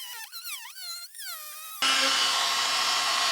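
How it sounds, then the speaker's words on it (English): A Works oscillating multi-tool cuts into a wooden 2x8, starting abruptly after a short lead-in and then buzzing loudly and steadily, close and alone. "It's an oscillating tool by Works."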